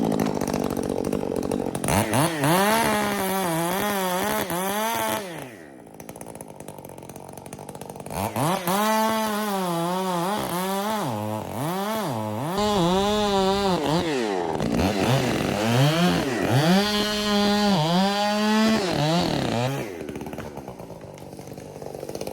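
A chainsaw cuts down a tree for firewood, its engine revving loud and close in repeated rising and falling bursts with short idle gaps between cuts.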